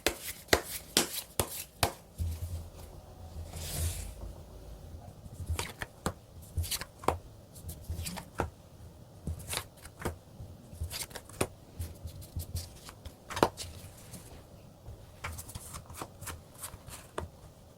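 Tarot cards are shuffled by hand in a quiet room, producing repeated crisp riffling and slapping bursts with brief pauses between them, close and fairly soft, with no talking.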